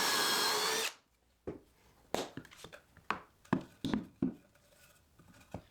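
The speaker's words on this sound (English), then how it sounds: "at 4 holes apiece, there was a lot of drilling" A power drill whirs loudly boring pocket holes in wood, then stops, followed by a series of sharp knocks and clatters of wood being handled.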